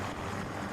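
Helicopter hovering in the video game Battlefield, a brief, steady rotor drone with low, even throbbing, close and continuous for under a second.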